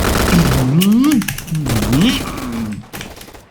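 Rapid gunfire crackles in the Roblox shooter Gunfight Arena, in short bursts of quick shots under a man's loud, excited talking.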